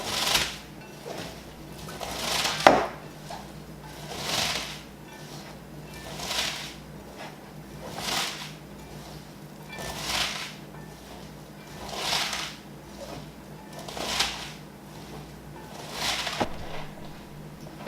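Cabbage squeezed and massaged by hand for homemade sauerkraut, a regular series of wet crunching squishes about every two seconds, close and alone.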